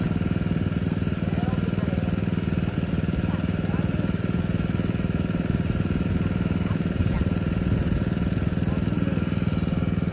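An engine-driven water pump runs in a rice paddy, giving a loud, continuous, steady mechanical drone with an even rumble throughout, and faint voices barely come through.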